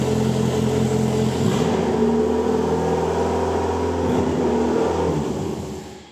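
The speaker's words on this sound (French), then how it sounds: "j'ai mis un coup de gaz, il est monté à 2005 et après il est resté à 2005" An engine-swapped Peugeot 106 holds steady, raised revs after a throttle blip, a loud close droning hum with stable tones that fades slightly at the end, no voices.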